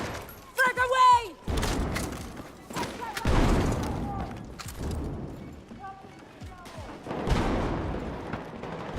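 Frag grenade blast and rattling gunfire in a first-person shooter video game, a series of heavy thumping explosions and shots spread across the scene, with players shouting between the bangs.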